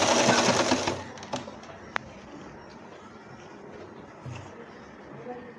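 A sewing machine stitches pleats on a churidar pajami, its loud whirring run lasting about a second before dropping to a faint, quieter hum with a few small clicks.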